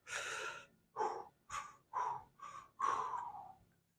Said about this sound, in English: sucking in the air, holding it, and then doing it, and then letting it out when I go out